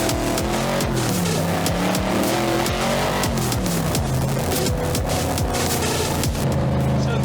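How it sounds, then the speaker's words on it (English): A 1962 Cobra race car driven on a public road, its loud engine roaring steadily close by with rising and falling revs throughout, no talking. "This is the closest you'll get to driving a race car on a normal road."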